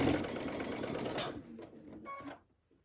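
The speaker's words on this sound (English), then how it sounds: "I'm just going to chain piece these groupings together" A sewing machine chain pieces quilt blocks, stitching steadily for about two seconds close by before stopping, with no talk.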